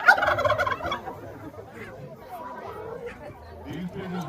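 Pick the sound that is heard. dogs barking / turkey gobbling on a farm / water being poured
turkey gobbling on a farm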